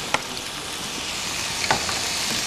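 Carrots and peas sauté in butter in a pan, giving a steady close sizzle with a couple of short stirring clinks over the top and no talk.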